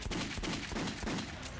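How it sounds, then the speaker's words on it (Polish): Gunfire in the video game Metro: Last Light, fired at a dummy target: a rapid run of sharp, evenly spaced shots with a dense, noisy body, loud and close with no talking. "Zobaczmy sobie, jak się jeszcze z tego strzela."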